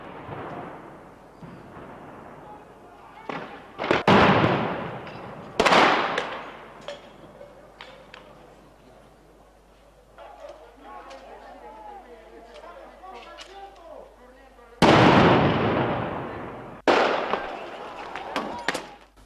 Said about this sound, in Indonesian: Polisi membubarkan kelompok tersebut dengan menembakkan gas air mata.